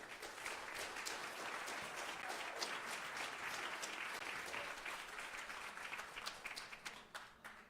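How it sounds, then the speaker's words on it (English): Sustained applause from a crowd at a city council meeting in Covington, dense steady clapping for several seconds before tapering slightly at the end. "That was a lot of applause."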